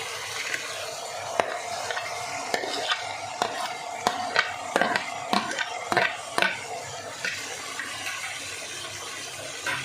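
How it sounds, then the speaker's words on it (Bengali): Eggplant frying in a pan and stirred with a utensil, a steady sizzle under repeated sharp scraping and clinking strokes against the pan, close and moderately loud. "দেখো এইবার আমি এর মধ্যে বেগুনটা দিয়ে দেবো"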